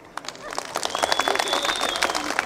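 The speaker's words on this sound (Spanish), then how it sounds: "También aplaudieron." A crowd claps at a ranch rodeo in Laguna Seca, Acatepec, with dense, rising applause building over a couple of seconds, mixed with voices and a whistle-like tone.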